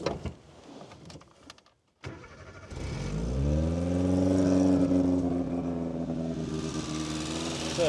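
A Suzuki Samurai engine cranks briefly, catches and fires up without choke, then settles into a loud, steady high idle with a rising rev near the start, close by and with no one talking.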